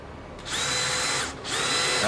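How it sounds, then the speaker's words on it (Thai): A power drill boring holes while building a miter saw table, running in two sustained high-pitched bursts with a brief pause between, loud and close with no talking. "เอาเจาะอีกรูเลย อีกรูเลยนะไหน ๆ ก็เจาะแล้วอ่ะ"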